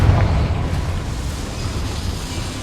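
A Confringo spell explosion in the video game Hogwarts Legacy, a deep, loud rumbling blast that strikes at once and then fades into a long, low roar.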